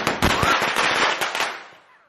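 A gundu firecracker goes off during Vishu celebrations with a loud, close burst of sharp cracks and pops that thin out and fade over about two seconds.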